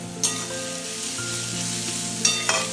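Chicken pieces dropped into onions already frying in a pan, giving a loud, steady sizzle with stirring and scraping, two sharper bursts where food hits the hot oil, and no voices.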